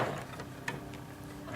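Sewing machine stitching slowly through thick fabric: a faint, steady mechanical whir with a few soft clicking ticks, quiet and alone.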